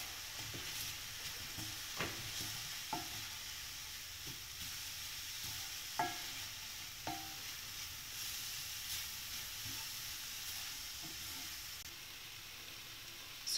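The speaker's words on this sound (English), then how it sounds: "So after sauteing it for a couple of minutes, this is done." Broccoli paratha filling spiced with red chili, coriander and cumin powders sautés in a pan, a faint, steady hiss of frying broken by occasional spatula taps and stirring clicks.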